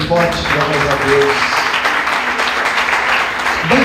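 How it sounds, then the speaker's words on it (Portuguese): Church congregation applauding loudly during a worship service, a dense continuous roar of clapping that holds steady throughout, with a voice speaking over it at the start. "Vamos aplaudir o Senhor bem forte, glória a Deus."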